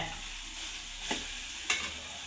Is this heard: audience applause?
no